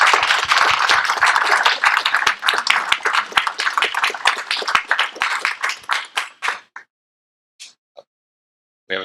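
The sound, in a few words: audience applause for speaker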